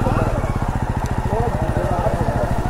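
A motorcycle engine runs close and loud at a steady idle-like throb, its rapid even pulses continuing unbroken from start to finish with no other clear sounds on top.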